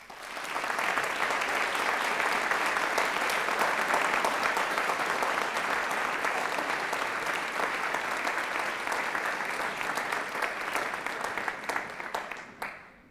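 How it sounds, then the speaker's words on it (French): Sustained audience applause welcoming a new singer at a choir concert, a full, even roar of many hands clapping that holds for over ten seconds before fading out at the end. "C'est donc avec un message d'encouragement et un applaudissement que nous accueillons Sandro Glarey d'Aimaville."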